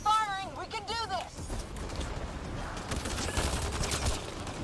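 Rapid gunfire from a Mass Effect Andromeda firefight, a dense crackle of shots running steadily after a character's voice opens the moment, with battle noise layered throughout.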